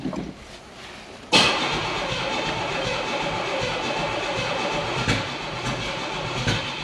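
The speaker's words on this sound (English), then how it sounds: "great. Doesn't want to idle." A 1980s car engine runs rough and struggles to idle, a sudden loud catch followed by an uneven, sputtering drone with occasional surges, heard close and without talk.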